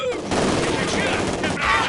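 Bursts of gunfire ring out in the World War II strategy game Company of Heroes 2, a dense, loud volley of overlapping shots with battlefield din and brief unit voices mixed in.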